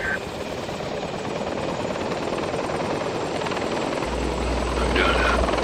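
A military helicopter in a video game drones steadily with a loud, dense rotor and turbine roar that stays constant throughout, with a brief extra low rumble near the end.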